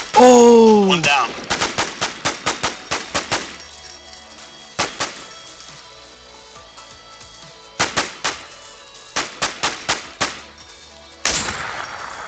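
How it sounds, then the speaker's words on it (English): Bursts of suppressive gunfire in a shooter game ring out in quick repeated shots, a dense volley early on, scattered single cracks in the middle, then another rapid string of loud shots near the end. "It was suppressive fire, bro."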